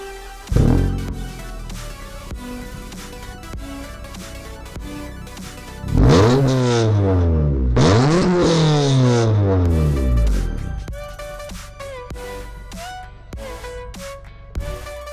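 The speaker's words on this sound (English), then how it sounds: "the recordings don't do justice for an exhaust sound" A loud car engine revs up twice in quick succession through its exhaust, pitch rising and falling with each throttle blip, then settles to a steady rumbling idle.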